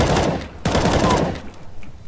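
Video game gunfire comes in loud, dense rapid bursts. A sharp volley cuts in partway, then trails off to scattered quieter shots.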